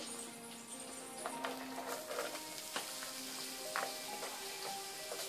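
Grated carrot fries in ghee over a medium flame in a pan where cashews and raisins were browned, for carrot halwa. A soft, steady sizzle runs throughout, with light intermittent stirring clicks and no talk.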